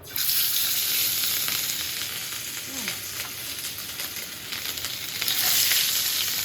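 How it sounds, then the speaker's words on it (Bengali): Fish pieces fry in a pan of hot oil, a loud, steady close-up sizzle that dips slightly in the middle and swells again near the end, with no talking. "মাছ কয়টা আগে একটু ভেজে নিই"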